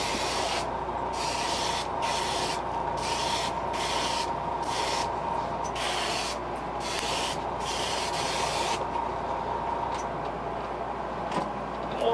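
An airbrush sprays a thin coat of paint on a fishing lure, a close hissing rush in repeated bursts of about a second separated by short pauses, with a steady compressor hum underneath.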